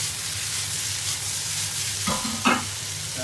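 Vegetables stir-frying over high heat in a pan, a steady close sizzle with a couple of sharp scraping stir strokes near the end.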